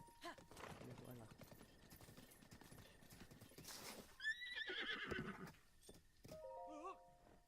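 A horse in the video game Zelda Breath of the Wild whinnies loudly with a rising, wavering neigh, preceded by clip-clopping hooves and busy game sounds, with another short whinny near the end.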